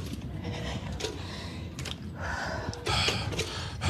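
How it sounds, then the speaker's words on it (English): A woman breathes hard, with loud ragged gasping and heavy breaths in a tense, noisy setting. "She's breathing hard"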